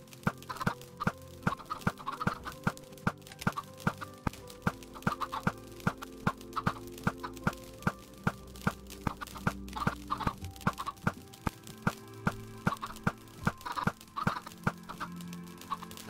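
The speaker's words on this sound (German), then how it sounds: "Ich weiß nicht, wie viele Hühner aus den Eiern rauskommen werden." Chickens cluck repeatedly in the Minecraft video game, with short, choppy calls recurring over a dense bed of steady game sounds.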